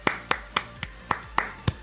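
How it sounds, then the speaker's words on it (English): Seven crisp hand claps in a steady, slightly uneven rhythm, close and clear, each a sharp isolated smack with nothing else around them. "Round of applause."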